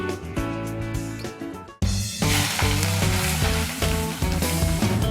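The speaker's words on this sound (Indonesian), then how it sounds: "panaskan minyak sayur untuk menumis udang" Shrimp sauté in hot vegetable oil, a bright crackling sizzle running underneath loud background music that briefly cuts out and then resumes.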